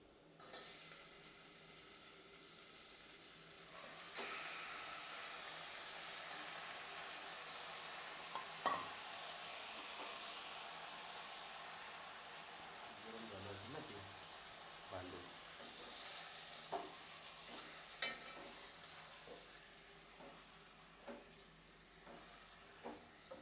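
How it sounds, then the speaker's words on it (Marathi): Mutton sautéed with turmeric in a pan gives a faint, continuous sizzle, broken by scattered scraping and tapping as it is stirred. "आता व्यवस्थित मटण परतवून घ्यायचं"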